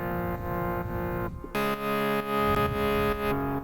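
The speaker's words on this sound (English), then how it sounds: "Just two random wavetables right here with some filtering, some noise and some bit crush on it." A buzzy wavetable synthesizer lead with filtering, gritty noise and crunchy bit-crushed texture plays a short phrase of sustained notes, loud and upfront with no voices.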